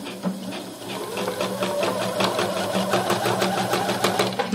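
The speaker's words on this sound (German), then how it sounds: "Und dann lege ich mein Jersey unten drunter und nähe das mal ab." A sewing machine runs a straight stitch through jersey fabric with a fast, steady mechanical whirring and needle chatter, continuous and close throughout, with no talking.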